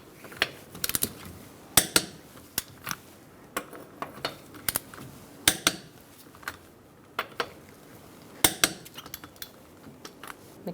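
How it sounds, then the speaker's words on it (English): A wrench tightening the wheel lug nuts on a 2002-2006 Toyota Camry to 76 foot-pounds, giving a run of sharp metallic ratcheting clicks in irregular bursts across the clip, close and fairly loud, with no talk. "We're going to torque our lug nuts to 76 foot-pounds."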